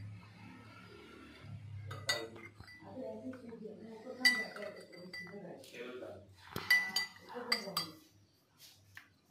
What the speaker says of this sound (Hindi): तो मैं अभी स्पून से डालूंगा